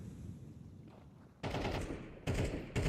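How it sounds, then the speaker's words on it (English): Rapid automatic gunfire in a Counter-Strike match, loud sustained bursts arriving in three waves over a quieter rumbling background. "there's a lot of gunfire"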